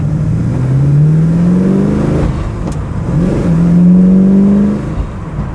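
A Ford GT40 engine revs hard as the car accelerates, rising in pitch through a gear, dropping briefly at a shift, then climbing again, loud and close with no talking.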